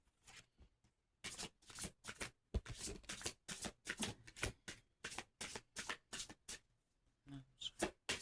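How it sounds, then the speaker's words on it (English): Tarot cards being shuffled in repeated crisp riffling bursts, close and quiet, with brief pauses between each shuffle. "Just gonna do a couple shuffles and we'll go through the cards."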